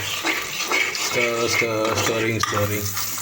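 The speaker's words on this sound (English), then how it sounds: "And then stirring." Stirring khichdi in a cooking pot, with soft scraping and sizzling throughout and a voice speaking over it.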